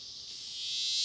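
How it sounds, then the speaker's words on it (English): A cicada sings a near-continuous, high, shrill buzz that swells steadily louder over about a second, heard alone and close. "Cicadas have a near continuous song like this."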